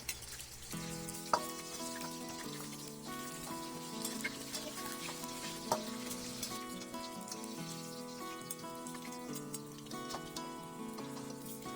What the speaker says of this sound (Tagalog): i-double fry natin sa mainit na mainit na mantika for 30 few seconds para mas maging crispy ang mga ito